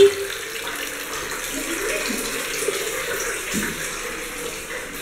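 Hot water runs steadily from a tap while a child is bathed during a family staycation, a continuous hissing splash with faint voices in the background.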